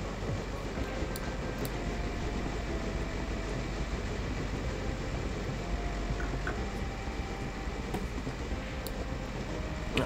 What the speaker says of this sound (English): I'm liking the fact we've got several trains running